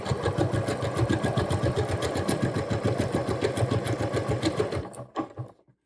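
A sewing machine stitches ribbing onto a dress in a steady, rapid rhythm for about five seconds, then stops abruptly, leaving a few faint handling sounds.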